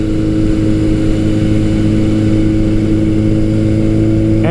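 A 1981 Kawasaki KZ1000 CSR motorcycle engine hums steadily and loudly while being ridden, a continuous droning rumble with constant wind and road noise, no talking.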